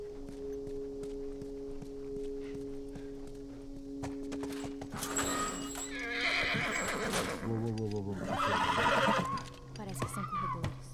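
A horse in The Last of Us video game whinnies loudly up close, with hooves clip-clopping as it walks, all over a steady game soundtrack with low drones and ambient noise.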